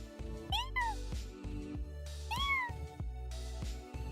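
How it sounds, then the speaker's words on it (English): A cat meows twice, a clear rising-falling cry near the start and another in the middle, heard close and fairly soft against a quiet room with light background sounds. "You meow at me, I'm gonna meow at you."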